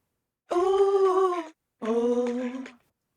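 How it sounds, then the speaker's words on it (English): Two sustained, swirling tones from a Leslie-style scanner effect, each about a second long, with a fluttery rotating-speaker wobble, separated by a short pause; no voices. "hear that kind of Leslie effect?"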